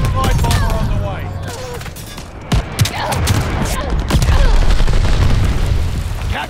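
Heavy gunfire and explosions roar in a battle video game, a dense continuous barrage of shots and booms with sharp bursts throughout, and voices cut in under the din.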